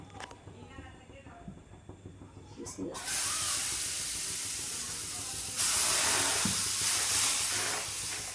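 Dosa batter is poured onto a hot stone griddle, and a loud, steady hiss rises abruptly and holds close up, swelling again partway through, after a stretch of quieter kitchen noise.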